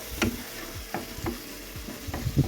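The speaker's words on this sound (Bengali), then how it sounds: "রাতে রান্না করে নিচ্ছি, একটু কষিয়ে নিব।" Onion, garlic, salt and spices stir-fry in soybean oil under a steady sizzle, with a spatula scraping and knocking the pan in a slow, repeated rhythm, close and clear.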